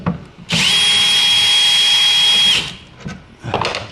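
A power drill with a T30 bit spins out screws on a Toyota Tacoma, one loud steady whine lasting about two seconds, then slowing, followed by faint handling clicks.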